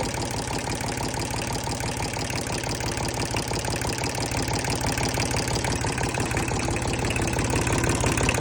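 A Kubota L2000 farm tractor's diesel engine idles steadily close to the microphone, a tight, even knocking chug that runs alone and unchanging throughout.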